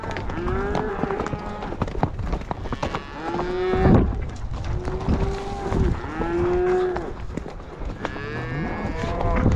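Cows and calves that jumped a fence and mixed with a neighbor's herd, mooing loudly in long, drawn-out calls, several overlapping bellows from close by in an open outdoor setting, with wind in the background.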